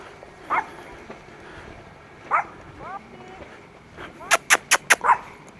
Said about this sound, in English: He always likes to bark at me.